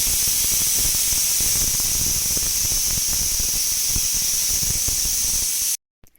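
A pressure cooker with egg biryani inside hisses steadily, a loud continuous steam rush with a high whistling edge that runs without break and then cuts off abruptly near the end.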